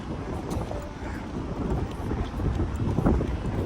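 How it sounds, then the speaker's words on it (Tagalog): Strong wind in Canada buffets the microphone in a continuous low roar, steady and loud throughout with no pauses. "Sobrang hangin."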